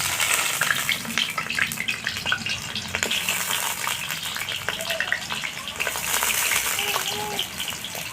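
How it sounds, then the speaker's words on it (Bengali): Radish pieces fry in hot oil with a continuous, rushing hiss and crackle, fairly loud and close, while a voice speaks faintly underneath toward the end. "এরপরে আমি মূলোকে ফ্রাই করে নেবো।"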